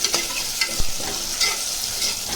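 Tomato sizzles in a pan for paneer peas pulao, a constant frying hiss with light stirring taps scattered through it.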